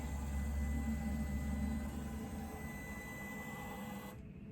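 A Husqvarna Viking Designer Epic 3 embroidery machine calibrates, giving a steady mechanical whir and hum for several seconds that cuts off abruptly, heard alone in a quiet room.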